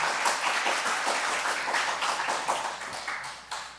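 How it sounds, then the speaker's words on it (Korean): A church congregation claps to welcome a newcomer at a Sunday service, a dense spread of hand claps from many people that runs steadily and then fades toward the end, heard without speech. "박수로 환영하겠습니다"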